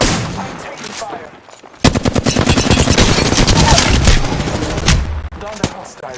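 Rapid automatic gunfire in the Apex Legends battle royale shooter erupts after a quieter stretch, a dense, loud, steady stream of shots that keeps rattling for several seconds with brief gaps near the end.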